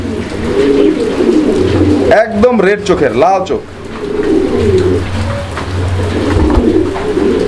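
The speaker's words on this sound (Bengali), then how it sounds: "বন্ধুরা আমরা দেখাচ্ছি আরো এক জোড়া কবুতর।" Racing pigeons coo low and repeatedly in the background while someone talks over them.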